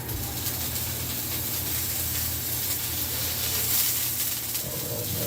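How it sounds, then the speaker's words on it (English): Steady sizzling of pastrami frying on a hot Blackstone griddle, a constant crackling hiss that stays even throughout with no voices. "I'm just going to start laying down some pastrami and warming this up"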